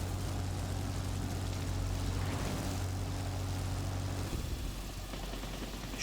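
Propeller engine of an American F2F fighter plane from the 1930s in the World of Warplanes air combat game, a loud, steady droning hum that holds for several seconds, then drops slightly in pitch and intensity near the end.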